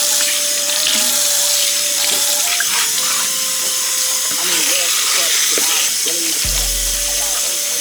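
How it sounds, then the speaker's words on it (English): Dingy water used to wash hair is dumped into a sink with a steady splashing, hissing pour, while a voice talks over it throughout. "Once it's stripped, dump that water."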